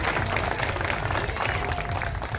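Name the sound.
audience applause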